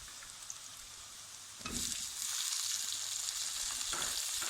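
Chopped tomatoes drop onto already browned frying onions, and a quiet sizzle swells abruptly into a loud, dense crackling hiss that carries on for several seconds.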